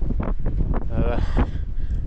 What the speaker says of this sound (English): a bit windy up top here